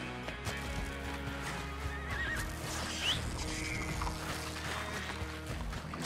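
Horse in a Red Dead roleplay game whinnies and neighs over steady clip-clop hooves, with a constant layer of game ambience underneath; no talking.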